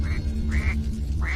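A distressed, thirsty bird cries out close by in three loud, repeated squawking calls, evenly spaced over a low background rumble.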